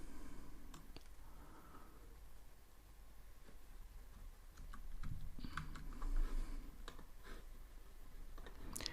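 Typing on a computer keyboard, quiet irregular key clicks and taps in short runs, close but faint, with no talking.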